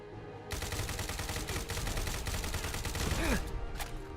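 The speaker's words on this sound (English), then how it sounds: "exploded that grenade in the air with my weapon" Rapid gunfire in Fallout 4 as a grenade is shot and bursts in mid-air, a dense crackling volley of shots sustained for several seconds with a few sweeping whooshes, loud and close.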